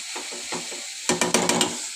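Green chilli, onion, tomato and peanuts sizzle in a pan, with a soft hiss and light scraping at first, then a run of sharper, louder stirring scrapes and clatters near the end.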